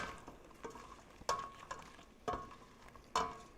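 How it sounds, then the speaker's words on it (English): Aromatics for crab soup being stirred and sautéed in a pan, with a light sizzle and several distinct scraping stir strokes recurring about once a second, fairly faint and close, no talking. "So you're just going to stir this up."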